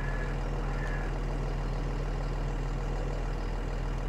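A vehicle engine idles in Farming Simulator 22 during forestry contract work on the Elmcreek map: a steady, deep, low droning hum with an even mechanical rumble, continuous and unchanging throughout, with no talk over it.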